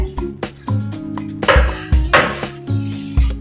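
A knife chops through pumpkin on a cutting board, sharp knocks landing in an irregular rhythm up close, with a few louder crunching strokes mid-way and no talking.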